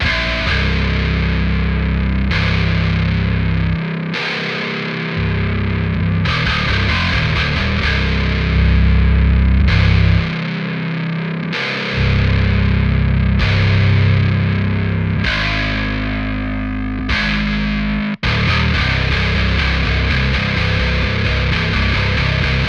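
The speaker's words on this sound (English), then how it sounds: "find the right blend between those two tracks, our Soldano high gain track and the low end track" Heavy, high-gain distorted electric guitar from a Soldano high-gain track chugs over a thick bass low-end track, playing loud metal riffs with brief stops between phrases.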